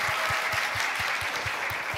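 Audience applause at a media strategy forum, a steady wash of clapping from a seated crowd with a low rhythmic thump underneath, continuous through the moment.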